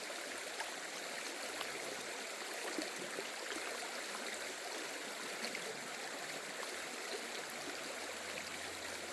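Stream water flowing steadily at a gold prospecting site, a continuous close rushing and trickling wash with no talk.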